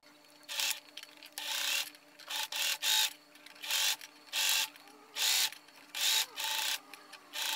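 A sewing machine topstitches a sleeveless gathered tiered dress in about nine short, even bursts of fast mechanical whirring, each separated by a brief pause, close and clear.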